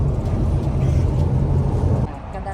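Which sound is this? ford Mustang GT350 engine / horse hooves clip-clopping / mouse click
ford Mustang GT350 engine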